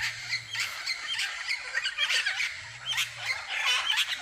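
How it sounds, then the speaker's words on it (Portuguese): Blue-and-yellow macaws (arara canindé) on a Brazilian farm, giving repeated harsh, raspy squawks at mid distance, several birds calling in overlapping bursts. "Só que todas são arara canidé."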